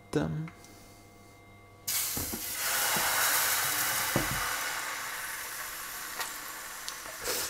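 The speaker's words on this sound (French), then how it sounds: "Une fois qu'on a bien beurré la crêpière, on récupère un peu de pâte." Crêpe batter hits a buttered crêpe pan with a sudden broad sizzle that holds steady and fairly loud, with a few light clicks of utensils. The pan may not be very hot.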